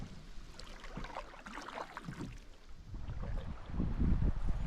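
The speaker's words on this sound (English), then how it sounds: "the wind picked up here" Steady gusting wind rushing over water around a canoe on Flagstaff along the Northern Forest Canoe Trail, a continuous broadband roar that swells louder toward the end, with no voices.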